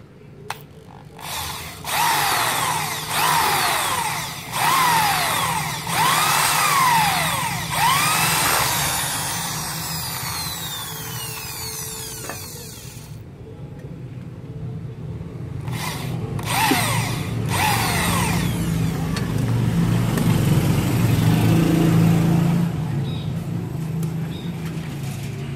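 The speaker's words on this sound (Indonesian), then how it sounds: "kita bor." A power drill whines in repeated bursts, rising and falling in pitch, while drilling bolt holes to mount a motorcycle license plate, then gives way to rougher grinding and clattering close by.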